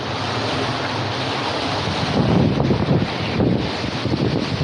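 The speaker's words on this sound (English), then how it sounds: "Yeah, it's windy as shit." Strong wind from Hurricane Milton roars steadily outdoors, buffeting the microphone with loud, broadband rumble and gusty surges that swell and ease over several seconds.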